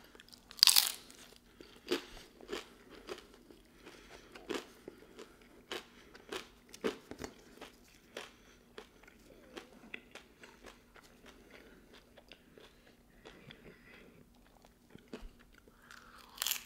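Crunchy bites and chewing of a Jack in the Box breakfast taco, quiet and close, with a sharp crunch near the start and irregular soft chewing crackles after it, no talking.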